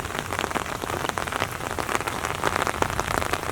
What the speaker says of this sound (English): We're getting a nice cooling rain.